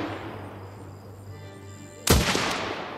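Gunfire in the video game Last Train Home, a machine gun position firing into a kill zone: a sudden loud burst of shots erupts after two seconds of quiet ambient game sound and carries on to the end.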